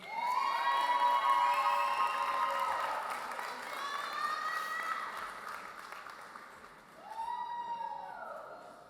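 Commencement audience for Health Sciences class of 2025 graduates, a broad wash of crowd applause and cheering with high shouts, strongest at first, easing, then swelling again near the end.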